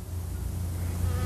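A bee buzzes continuously in a steady, close, low drone for a moment with no voices.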